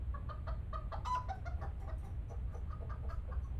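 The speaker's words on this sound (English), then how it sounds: "What's that noise? Our chickens, Henny, Penny, and Maxine." Backyard chickens kept in New York cluck steadily and close by, several birds overlapping in a busy, continuous chatter of short clucks with no talking.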